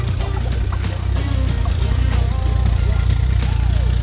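Old classic muscle car driving, its engine rumbling loud and low throughout with a steady throb and faint wind noise, and no speech.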